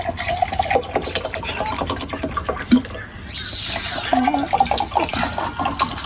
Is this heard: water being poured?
yes